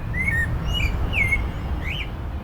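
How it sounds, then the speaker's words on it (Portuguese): Small birds sing outdoors in short, clear chirps, about four separate phrases over a soft steady background hiss, with no talking. "Um dos motivos que os pais cantam é para ensinar os filhotes que ainda estão no ninho, aprendendo."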